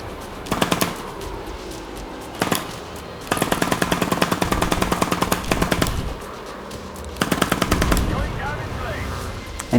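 Rapid bursts of simulated gunfire from a VR shooting game played with a Provolver gunstock: several loud machine-gun strings of tightly spaced shots separated by short pauses, close and punchy.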